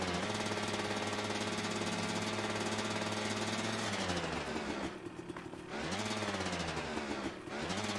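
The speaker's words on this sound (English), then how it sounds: "Oh, finally can hear the bike." A motorcycle engine runs in the co-op game A Way Out, a continuous rattling, buzzing drone that dips briefly and then rises again as the revs change.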